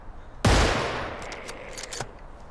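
Sniper rifle fires in a video game, one loud sharp crack with a long decaying tail, followed by faint clicks and small thuds.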